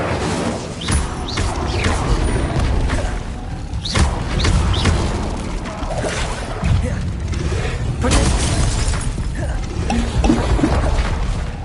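Incendio fire spell cast in Hogwarts Legacy, a dense continuous roar of whooshing magic bursts, thuds and crackling effects over several seconds, loud and busy, with voices calling out over it.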